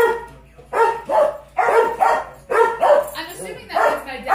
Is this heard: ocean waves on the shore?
no